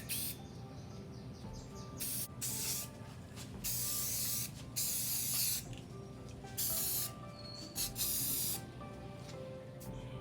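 Aerosol can of two-in-one paint and primer spraying a decorative vase: long hissing bursts of several seconds each with short breaks between, close and steady.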